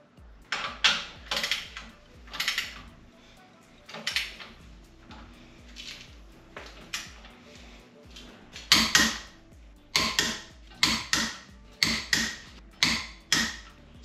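Wheel spacer bolts being torqued with a hand wrench on a 2020 Ford Mustang GT, a run of sharp metallic ratcheting clicks in short repeated bursts, close and clear, with quiet pauses between groups.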